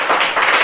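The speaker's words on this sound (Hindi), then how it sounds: "जोरदार ताली बजा दीजिए" Classroom clapping for a student, a short burst of rapid, close, loud hand claps from a group.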